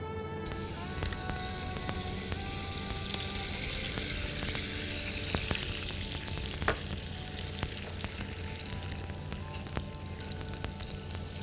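Butter melts and sizzles with caramelizing sugar in a pan, a steady loud frying hiss that runs throughout with a few sharper crackles and no talk.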